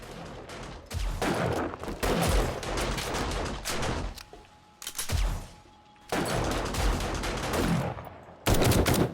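Shotgun fire in the zombie survival game 7 Days to Die, loud blasts fired in rapid succession in several long barrages separated by short pauses, close and heavy, with no talk.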